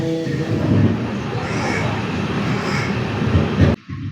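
A train slows on its approach to Chengannur, a dense low rumble of wheels and carriage noise filling the space before cutting off abruptly near the end.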